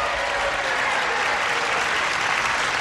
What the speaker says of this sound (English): I'll go over here and ask all of you to join me in a big round of applause for Joe Hecht and Desiree Rohr.